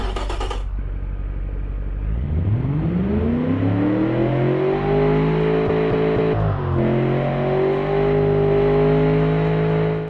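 A virtual car engine in the Automation car company tycoon game revs up in test mode, climbing steadily to a high, sustained whine that holds near the top with a brief dip, loud and alone.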